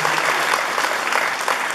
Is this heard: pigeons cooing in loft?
no